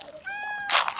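A cat gives one clear, close, rising meow at feeding time, followed by a brief rustling burst.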